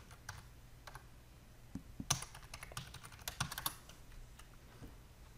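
Irregular bursts of keystrokes on a computer keyboard as a password is entered to log in to a Windows Server 2019 virtual machine, fairly quiet and close, with a faint steady hum beneath and no talking.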